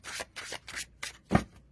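A tarot deck is shuffled in five quick, soft bursts of riffling and rubbing card stock, close and quiet, with no voices over it.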